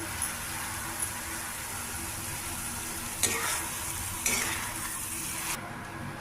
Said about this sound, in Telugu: మధ్య మధ్యలో మనం ఇలా కలుపుకుంటూ ఉండాలి